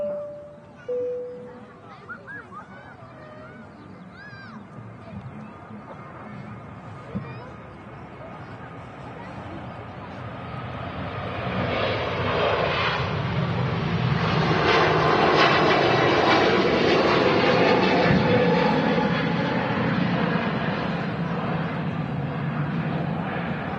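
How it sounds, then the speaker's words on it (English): An Air Transat A321neo departs Manchester Airport, its engine noise building from quiet murmur to a loud broad roar after a few seconds of calm, with people talking early on. "Air Transat A321 heading off to Toronto"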